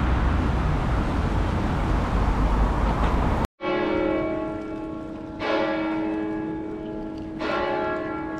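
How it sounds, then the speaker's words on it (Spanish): A burst of loud rushing noise cuts off, then the bells of León Cathedral in Spain strike three times about two seconds apart, each resonant peal ringing out and fading. "Justo mandamos sonar el campanario para el video."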